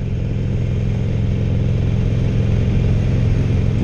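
A 2016 Harley Davidson Roadster motorcycle cruises steadily in fourth gear, its engine giving a loud, close, continuous low rumble with a slight rise in revs and no pauses.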